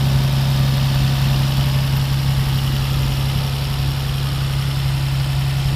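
A Nissan Maxima engine idles steadily with a deep, constant hum and rumble, close and fairly loud, with no talking.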